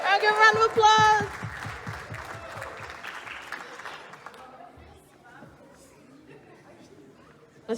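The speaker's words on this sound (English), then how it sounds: "I'll give a round of applause." Audience applause at a children's cultural showcase in West Auckland, a burst of clapping and cheering up front that fades into crowd chatter and scattered voices.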